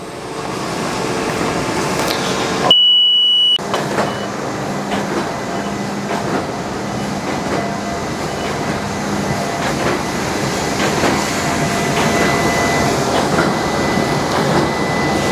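A Horizon SB-09 smart binding machine runs steadily with a continuous mechanical rumble and repeated clattering cycles, broken once by a short gap of silence, then carrying on at an even, fairly loud level with no voices.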